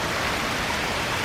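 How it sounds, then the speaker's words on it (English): Steady June rain falls in a broad, even hiss with no pauses, loud and close, with nothing else standing out and no voices. "our much welcomed rain."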